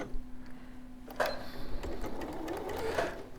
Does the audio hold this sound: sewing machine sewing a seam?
yes